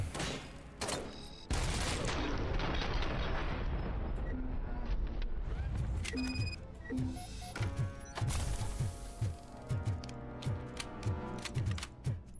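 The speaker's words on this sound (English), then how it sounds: "Now who's shooting at me?" Rapid gunfire in the RoboCop video game, with a dense burst of shots early on, then repeated sharp impacts and bursts over a steady backdrop of game effects and rumble.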